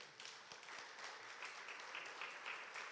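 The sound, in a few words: church congregation applauding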